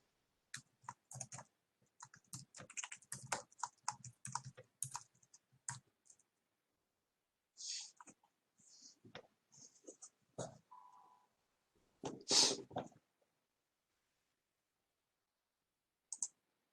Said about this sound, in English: Let's type to Rashika here.